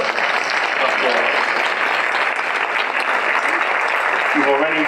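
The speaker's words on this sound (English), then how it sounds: "he deserves an incredible applause" An awards ceremony audience applauds Rabbi Joe Potasnik, a steady full wash of clapping for the whole stretch, loud and dense with no break.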